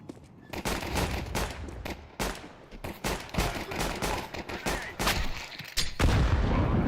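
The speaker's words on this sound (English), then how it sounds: "Flashbang." Gunfire and a flashbang grenade in a tactical shooter video game: dense, loud bursts of rapid shots and bangs that overlap almost continuously, ending with a heavier low blast.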